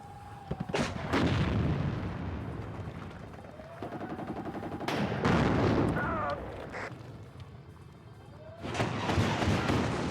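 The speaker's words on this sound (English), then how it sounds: "Oh, the autocannon!" Autocannon fire in the Warno wargame, a BMP-3 shredding a T-55 at close range: heavy booming bursts in three loud clusters with rolling rumble, and people talk under the gunfire.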